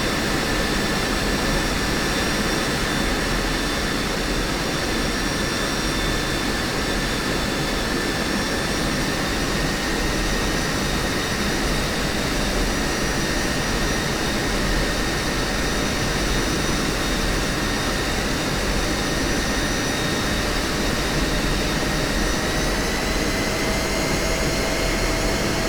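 F-16 jet engine running up in a flight simulator game, a loud continuous roar with steady whining tones that hold constant throughout, no voices.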